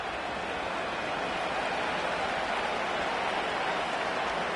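Steady rain pours down over an outdoor football stadium during an NFL game between the Bengals and the Titans, a dense, even hiss that stays constant and fairly loud throughout with no clear voices.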